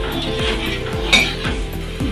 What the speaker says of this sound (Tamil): இப்போ மூடி போடுறோம்.